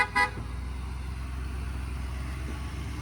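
A truck engine runs as a steady low rumble that holds for several seconds, with a short car horn toot at the very start and no talk.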